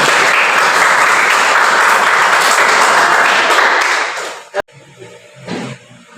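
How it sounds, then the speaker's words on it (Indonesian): A class applauds together in dense, steady clapping for about four seconds, then it drops off abruptly, leaving a few scattered taps and faint room noise. "Kita beri tepuk tangan untuk semua."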